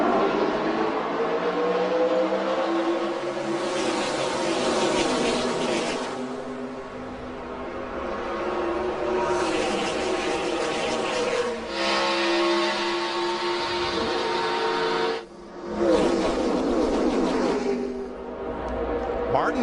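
A pack of NASCAR stock cars roars off the start of the Budweiser Shootout, engines droning and revving in long sustained sweeps that swell and fade as they pass, with commentators talking over the noise.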